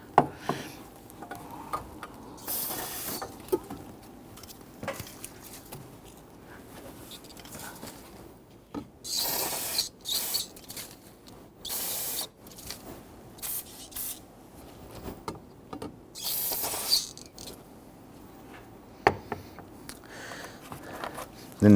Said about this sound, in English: now we can go ahead with some spray solvent and give that a quick spray